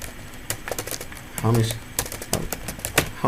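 Keys tapped on a computer keyboard in quick irregular bursts of sharp clicks, close by, with someone talking over the typing.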